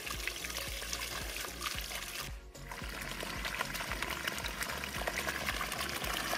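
River water rushes through a drum pump pipe in a hydro setup, a dense, steady gushing and splashing with rapid bubbling pulses, briefly dipping near the middle before flowing on, and no talk.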